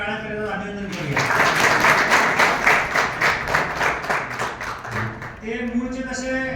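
Audience applause at a staff retirement service-honour ceremony, a dense burst of clapping from a gathered crowd lasting several seconds, with voices talking at the start and again as the applause fades.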